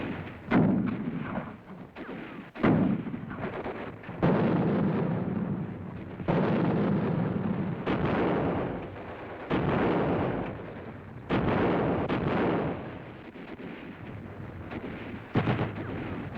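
A World War II battle on the Gothic Line in Italy, where German troops lay down crossfire with mortars and machine guns. It comes across as a string of heavy, muffled booms and rumbling bursts that roll one into the next.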